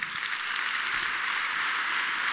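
Audience at a 30th-anniversary gala applauding, a steady, even wash of clapping from a large hall, sustained without pause.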